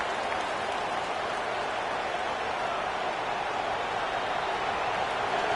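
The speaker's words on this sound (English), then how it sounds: "This crowd ready to make its presence known." Stadium crowd noise in an EA Sports College Football game, a dense, steady wash of distant cheering and murmur that holds evenly throughout without voices standing out.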